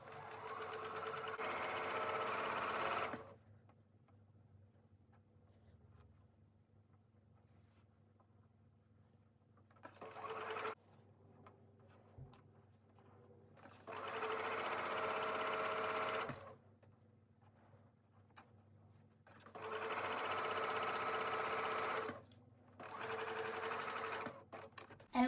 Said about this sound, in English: then I will sew it all around